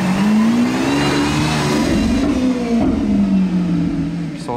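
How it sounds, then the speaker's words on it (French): A Lamborghini Aventador fitted with an aftermarket Capristo exhaust passes on the road, its loud engine note rising and falling steadily as it approaches and drives by, close and dominant throughout. "Aventador de base, hein. C'est pas une S ni une SVJ, mais il a un échappement Capristo on dirait."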